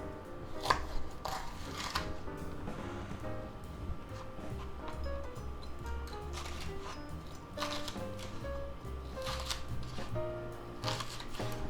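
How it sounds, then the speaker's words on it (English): A knife cutting a hot pepper into strips on a board, quick rhythmic chopping taps close by and fairly quiet, with faint background music underneath. "let's cut up this pepper"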